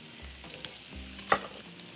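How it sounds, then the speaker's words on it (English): Shallots hit hot oil in a pan and sizzle softly, joined by a brief stirring scrape and a light clatter, close and fairly quiet with no one talking. "we're gonna add a little bit more oil. And I am going to add the shallots"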